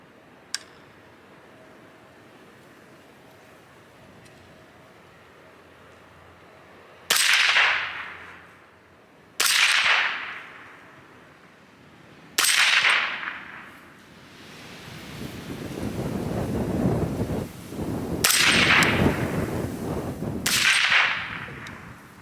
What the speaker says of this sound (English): Probably shoot 2 more groups here.